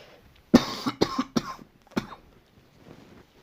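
A burst of four or five sharp coughs comes in quick succession, followed by a fainter final cough, close and loud with quiet in between.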